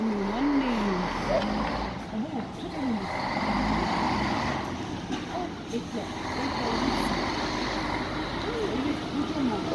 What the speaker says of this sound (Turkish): Bak kocaman kamyon geliyor.